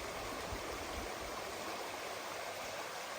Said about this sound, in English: we've got this nice rushing mountain creek, stream, river, whatever, going on along right beside that I thought you might want to see